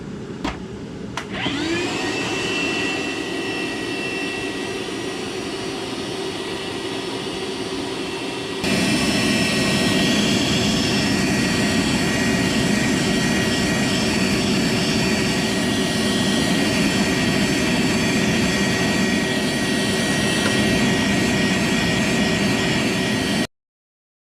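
A vacuum steadily sucks carbon buildup out of a pipe on a tankless water heater's heat exchanger, a loud continuous roaring whine that starts after a brief clatter and steps up louder partway through, running alone without talk until it cuts off.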